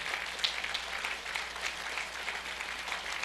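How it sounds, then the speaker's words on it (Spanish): Congregation at a church service applauds after a pastor's sermon, an even wash of many hands clapping at moderate volume, steady throughout with no speech on top. "Dele ese aplauso a Jesús."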